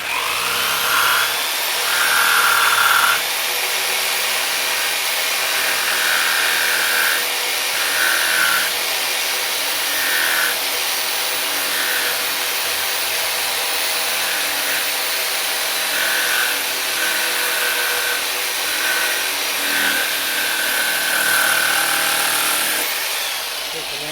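A power tool cuts down the windshield of a 2000 Honda Goldwing 1500 motorcycle. It whines in short, repeated bursts over a constant hiss of broad noise.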